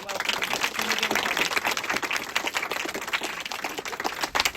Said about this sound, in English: please join me in giving a huge round of applause and welcome